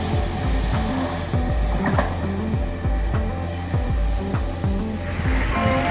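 A train rolls past close by on the main line between Nuremberg and Munich, wheels clattering over rail joints in a rapid, regular rhythm, with a high metallic hiss above the rumble.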